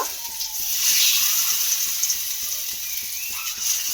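Pumpkin and lentil mixture frying in an oiled pan, a loud continuous sizzle with regular soft stirring taps throughout.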